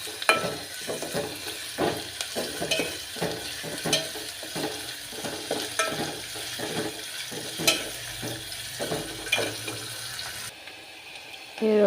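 Finely chopped onions frying in a pan, with a continuous crackling sizzle broken by rhythmic stirring scrapes, close and steady before it cuts off near the end.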